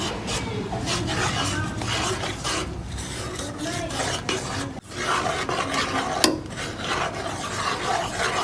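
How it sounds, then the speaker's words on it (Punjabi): Milk mixture for mawa rolls being stirred by hand in a pot to stop lumps forming, a steady scraping and rubbing that runs on continuously, close and fairly loud, with no talk. "ਇਹਨੂੰ ਚੰਗੀ ਤਰ੍ਹਾਂ ਮਿਕਸ ਕਰ ਲਾਂਗੇ ਜੀ ਤਾਂ ਕਿ ਗੰਢਾ ਨਾ ਵੱਜਣ"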